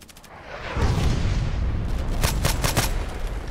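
SVU-AS rifle fire in the online shooter Contract Wars: a heavy rumbling boom rolls in, then four or five sharp, evenly spaced shots crack in quick succession over a dense background roar.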